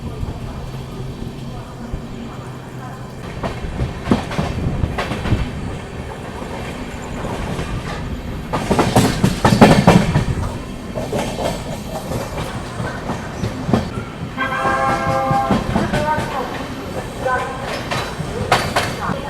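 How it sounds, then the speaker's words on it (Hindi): The Sampoorn Kranti Express runs past Prayagraj Junction without stopping, its wheels giving a continuous rumble with rhythmic clickety-clack that swells in the middle, heard from on board beneath occasional voices. "यहाँ पर अपनी संपूर्ण क्रांति एक्सप्रेस स्किप कर रही है अभी प्रयागराज जंक्शन रेलवे स्टेशन को।"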